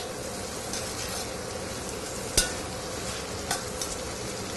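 Food sizzles steadily in a hot pan during a quick stir, with a continuous frying hiss and a couple of brief clicks from the utensil against the pan.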